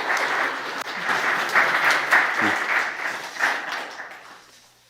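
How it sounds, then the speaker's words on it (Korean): A church congregation at a Sunday service claps warmly together, a dense, even applause that holds for several seconds before fading away. "우리 모두 한번 박수 한번 보내주시면 좋겠습니다"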